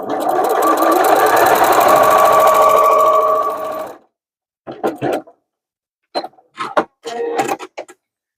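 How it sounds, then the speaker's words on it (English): Sewing machine stitching a seam on a small scrap-fabric zipper pouch with the stitch length set to 2.4, a loud close continuous whir for about four seconds, then silence broken by a few short handling and clicking bursts. "So I start sewing a little ways away from the edge of the interfacing"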